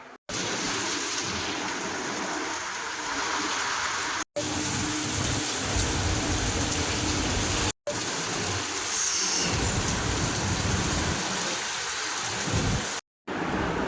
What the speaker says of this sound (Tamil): நல்ல மழை பெய்யுது, நல்ல சாரல் அடிக்குது.